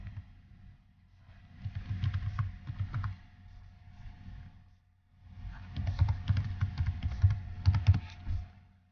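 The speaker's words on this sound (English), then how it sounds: "so you type in whatever you want it to be" Rapid typing on a computer keyboard, close and clear, coming in two bursts of dense clicking separated by a brief pause, with no voice over it.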